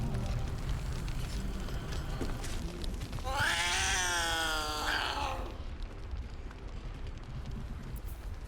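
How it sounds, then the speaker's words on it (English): A cat from Baldur's Gate 3 lets out a loud, drawn-out yowling meow lasting about two seconds, set over a low rumbling game backdrop. "This cat's gonna tear our face off."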